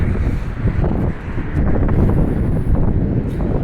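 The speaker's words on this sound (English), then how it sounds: "But this way, I'm walking right into the wind." Strong wind buffets a microphone while someone walks straight into it on a sunny, windy stretch toward a Walmart, a loud, rumbling roar that surges and dips unevenly without letup.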